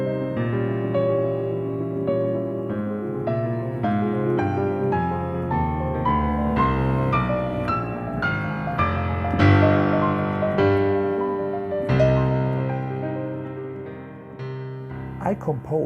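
Solo piano plays a passage inspired by Beethoven's Pathétique Sonata, Op. 13: a flowing sequence of distinct notes and chords with a steady, measured pulse, clear and close, swelling in the middle before a few final struck notes.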